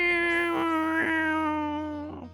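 A person's voice imitates an angry cat, producing a sustained, close, loud yowling caterwaul with two sharper accented bursts, then trailing off, with no other sound.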